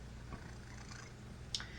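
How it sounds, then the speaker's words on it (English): A domestic cat purrs close by, a soft, steady low rumble that continues evenly through the moment with no voices. "Do you hear my cat purring?"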